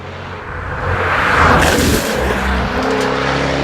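A 2015 Jaguar F-Type Coupe engine roars loudly as the car is driven, the sound swelling with acceleration and then holding a steady, strong drone.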